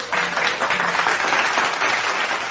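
Applause plays over a live Chinese radio stream broadcast, a steady wash of many hands clapping at an even loudness for a couple of seconds, with no talking.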